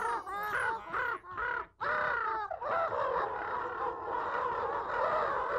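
Many birds caw in a children's TV show, giving a run of loud, harsh cries that repeat rhythmically and then blur into an overlapping raucous chorus.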